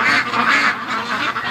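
Domestic ducks raised in a backyard flock, hungry at their feeders, give a steady run of close, loud quacks and honking calls that overlap with no pause for the whole stretch.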